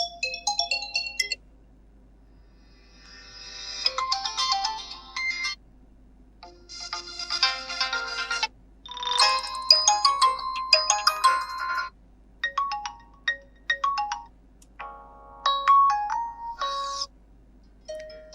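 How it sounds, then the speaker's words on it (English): A Vivo Y31 smartphone plays through several ringtone melodies, bright electronic chimes and tinkling tunes in short bursts separated by brief silences, heard alone and close up. "Now locate and open phone ringtone and pick the tune that you like the most."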